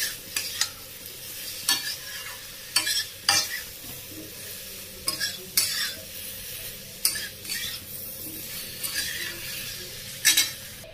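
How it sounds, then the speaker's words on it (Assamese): Mango pickle masala is stirred in a frying pan, a steady sizzle broken by repeated sharp scrapes and clinks of the spoon against the pan, close and irregular, with no voices. "এতিয়া আমখিনি মছলাটো দি দিম। দি পেলাই অলপ ভালকৈ লৰাব লাগিব।"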